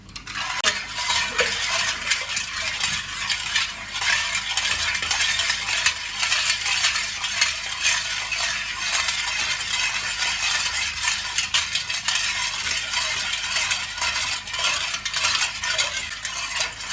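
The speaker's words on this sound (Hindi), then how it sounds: "चीनी को अच्छी तरह से हम मिक्स करेंगे इसमें।" A spoon stirs sugar into water in a glass for a sweet sattu drink, producing continuous rapid clinking and scraping against the glass, fairly close and steady, with no voices.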